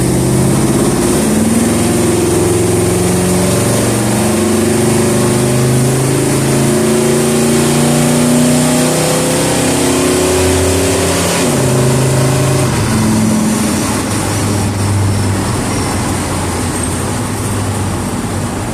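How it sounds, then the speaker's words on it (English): A Ford E150 van with a swapped-in 351W V8 pulls hard in second gear from about 20 mph, the engine note climbing steadily through a long loud acceleration, close and continuous, with no talk over it. "I was rolling in it in a second at about 20 miles an hour and just letting it go"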